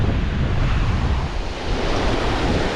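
Waves wash onto a Lake Erie beach in a steady, dense roar of surf, with heavy wind buffeting the microphone and no voices.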